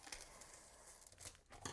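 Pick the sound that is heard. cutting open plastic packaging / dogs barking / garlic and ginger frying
cutting open plastic packaging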